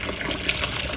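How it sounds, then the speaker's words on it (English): Hot water pours from a kettle onto a jar to loosen a label's glue, a brief, steady splashing gush heard up close. "I'm pouring some more hot water on top of it from the kettle"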